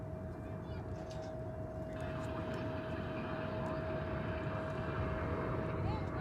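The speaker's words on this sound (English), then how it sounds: "Yonder cometh American Flight 1961 from San Antonio, Texas, on Airbus" American Flight 1961, an Airbus A321 from San Antonio, approaches Dallas/Fort Worth Airport with a distant jet roar that swells gradually over a steady airport rumble and faint radio chatter.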